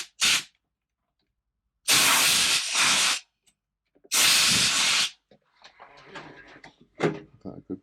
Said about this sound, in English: Let's get the old blower. Maybe it's some fluff I can't actually see.